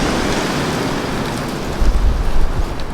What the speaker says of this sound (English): That wind's blowing.